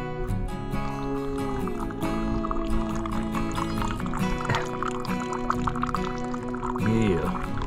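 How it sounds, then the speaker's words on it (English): A drink poured from a filter outdoors on a mountain trail among larches, a continuous trickling liquid stream lasting several seconds, close and fairly quiet with some background murmur. "That's a good pour right there, man."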